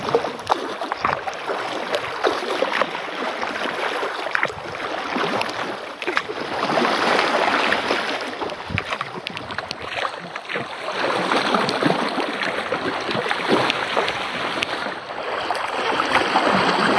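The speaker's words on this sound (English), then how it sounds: "You see the wind and the waves picking up." A steady, loud wind-and-water roar surrounds a kayak during a squall in Portage Bay, Alaska, as choppy waves rush and slap against the hull with no letup for the whole stretch.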